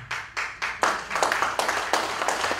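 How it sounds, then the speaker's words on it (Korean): An audience at a political forum claps, starting with a few separate sharp claps that build into a dense, steady round of applause, close and fairly loud. "박수 치시는 분은 그냥 잘리라고 박수 치시는 건 아니겠죠"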